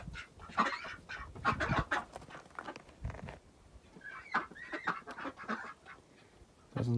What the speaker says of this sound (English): Now that the geese are over here by the duck house